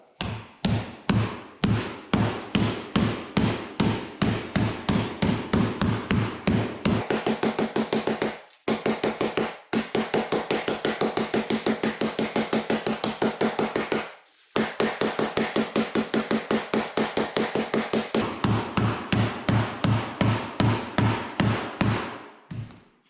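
A sanded rubber mallet pounds a copper sheet into a dish in a steady, rapid run of loud, close thuds, interrupted by a few brief pauses, with no talking.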